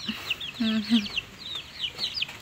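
High peeping chicks and a few low clucks from hens nearby, in short scattered bursts with no talking.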